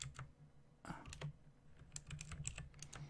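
Faint, close computer keyboard clicks while a command is typed for a Minecraft server, in quick irregular taps.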